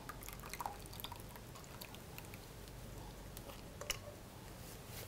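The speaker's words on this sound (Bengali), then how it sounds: "আমি এখন এটা ঢেলে দিচ্ছি" A rich shahi saffron dish with rose water is poured out for serving, a soft, faint liquid trickle with scattered drips over low background noise.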